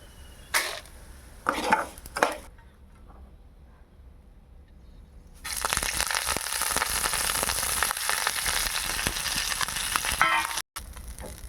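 Ingredients fry in a pan as cumin seeds are added for a drumstick-leaf spice powder. A few sharp clatters come first, then a lull, then a loud, steady sizzle that runs to the end.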